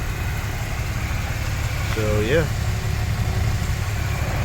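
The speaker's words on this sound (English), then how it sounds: "the engine is still running." A parked truck engine idles steadily and evenly throughout, with someone talking over it and a short whistle-like sound in the middle.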